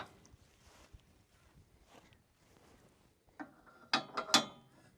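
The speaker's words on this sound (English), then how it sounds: "We remove the 2 pins. Pulling the spare wheels down and slotting the pins back in behind." Spare wheels on a Lowdown 13 trailer pulled down and their pins slotted back in: quiet handling at first, then a cluster of loud metallic clanks and ratcheting knocks near the end.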